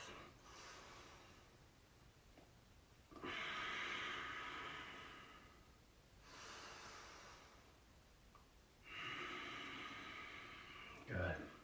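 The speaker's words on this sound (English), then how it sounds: "Exhaling and inhaling, connecting that movement and our breath." During a power yoga flow, slow audible breaths repeat, with long rushing inhales and exhales at close range, alternating every few seconds in a steady rhythm, quiet and alone.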